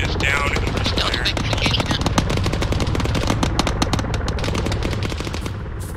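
Sustained rapid automatic gunfire from the military shooter Arma 3, dense loud bursts rattling almost without pause through the whole stretch, with a helicopter-like drone underneath.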